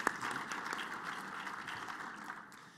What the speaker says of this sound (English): but I think Marla deserves a round of applause as well for moderating the panel.